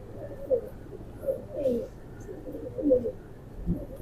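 A pigeon coos softly nearby in a series of low, throaty rolling calls spaced across a few seconds, over a faint background hum, with a brief soft thump at the end.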